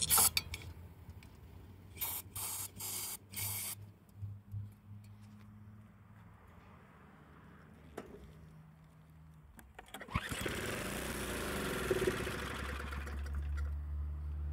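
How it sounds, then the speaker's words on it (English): Carburetor cleaner sprayed into a Craftsman snowblower: a few sharp, close spray bursts at the start, then a longer hissing spray with a faint engine-like rumble underneath. "Push a carb clean up in there."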